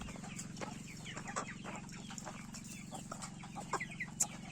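Chickens clucking in short, scattered calls over a steady low hum, with a few sharper squawks near the end; moderately close and fairly quiet.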